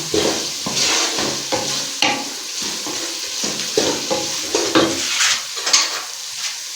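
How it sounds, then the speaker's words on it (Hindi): Masala with black pepper and red chilli is stirred in a hot pan for Chinese-style veg pulao, with repeated scraping strokes over a continuous sizzle, close and without voices. "ये मसाला को अच्छी तरह से मिक्स कर देते हैं।"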